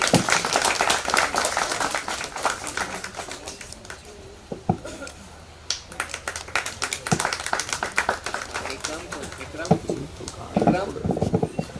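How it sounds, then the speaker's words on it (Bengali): Audience applause at a welcome ceremony for new students at a nursing institute, a dense patter of many hands clapping that dips briefly midway and then swells again, with a voice speaking over it. "সবাই হাততালি হয়ে যাক একটু।"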